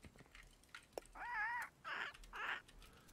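A parrot squawks in a flight video game, giving three loud, harsh, wavering calls in a row after a few short chirps, close and clear over faint game background.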